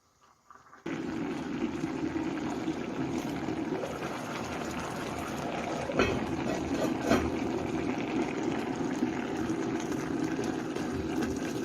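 Smoked turkey with powdered nutmeg simmers in a pot for a Congolese palm-nut sauce, giving a steady close bubbling hiss after it starts abruptly, with a few brief pops.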